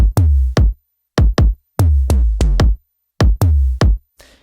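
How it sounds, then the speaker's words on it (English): Deep, booming kick drum hits play in a syncopated pattern, each with a pitched, sliding low tail like an 808 bass, alone and loud. "I wanted to use this kick sound to do like an 808 effect"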